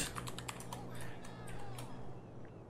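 Rapid tapping on a computer keyboard entering a motorcycle cheat code for GTA 5, a quick run of light clicks, quiet and close.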